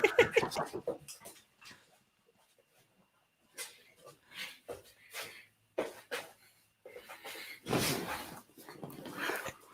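An excited puppy breathes and snorts in short bursts of sniffing and snuffling, close and fairly quiet, with brief gaps of silence between the bursts.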